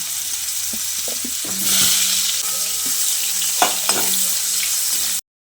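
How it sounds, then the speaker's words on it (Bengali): Steady, loud sizzling of unripe jackfruit pieces frying in hot oil, with occasional soft clinks and stirring sounds, ending abruptly in silence. "একইভাবে বাকি এঁচোড়গুলো ভেজে নিচ্ছি।"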